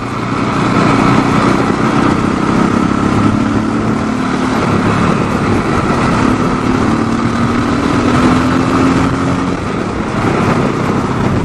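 Yamaha XT 660 Z single-cylinder motorcycle engine on a test ride, a steady close drone with wind rush and a slowly rising engine tone held loud throughout.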